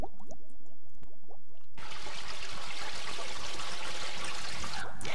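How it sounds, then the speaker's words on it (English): Water channeled through a fast sand filter at a treatment works: a few soft drips and trickles at first, then a sudden dense, continuous rush of flowing water that stays loud and steady to the end. "the water is first channeled through a fast sand filter"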